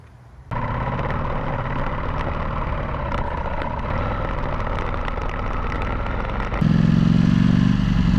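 A Ducati Panigale V4 fitted with a throttle spacer kit and a new heat shield, ridden with a steady, loud engine drone that swells to a heavier roar near the end.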